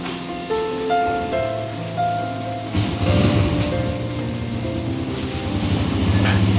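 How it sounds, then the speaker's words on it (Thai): Steady morning rain falls continuously after a night of downpour, a constant wash of drops heard close by, with soft musical tones playing underneath. "วันนี้ฝนตกตั้งแต่ หลังเที่ยงคืนโอ้โห ตกตลอดเลย แล้วเช้ามาก็ตก"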